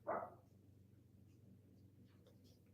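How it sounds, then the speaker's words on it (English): A single short bark from a dog at the very start, fairly close, then fading into a low steady hum and quiet room tone. "It's my dog."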